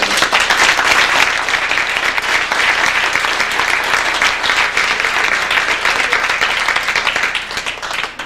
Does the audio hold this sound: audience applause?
yes